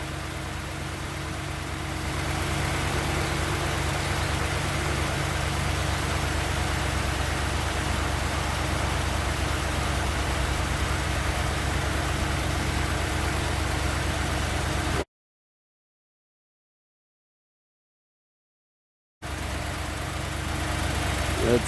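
A car engine idles steadily during a warm-up regulator test, giving a continuous close drone with broadband noise, broken by a gap of silence before it resumes.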